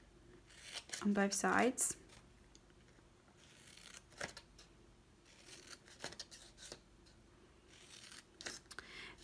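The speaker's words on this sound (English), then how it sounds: "Cut up the 3 lines" Scissors cut patterned Garden Impressions cardstock along scored lines for a small rectangular paper box. Quiet, scattered close snips are heard, with a brief burst of speech early on.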